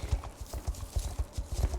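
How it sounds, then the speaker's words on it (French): Horse hooves clip-clop in a quick, steady galloping rhythm in a video game, the beats fairly close and moderately loud, with no speech. "mon cheval n'est pas rapide"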